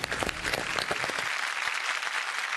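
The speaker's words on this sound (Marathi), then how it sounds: "जोरदार टाळ्या तुमच्यासाठी खरं तर." Loud, dense applause from a studio audience at a Marathi TV game show, steady clapping throughout, thinning slightly toward the end.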